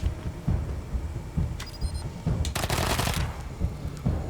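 Gunfire in the video game Wasteland 3, a burst of rapid shots cracking over a loud, rumbling game soundtrack, with no voices.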